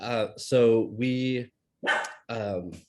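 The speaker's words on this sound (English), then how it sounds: "excuse the dog." A dog barks several times indoors, loud sharp barks in short bursts with pauses, overlapping a person talking briefly.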